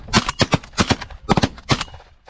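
Rapid shotgun blasts at a pigeon hunt, about eight sharp reports in uneven bursts, some in quick pairs, loud and close, each ringing off briefly.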